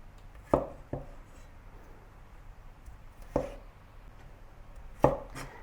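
A knife chops carrots and cucumber into cubes on a cutting board, producing a handful of sharp, isolated thuds spaced irregularly over a quiet background.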